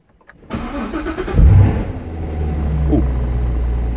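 Corvette-based supercar prototype engine cranks and fires up with a sharp blip, then settles into a deep, steady rumbling idle close by.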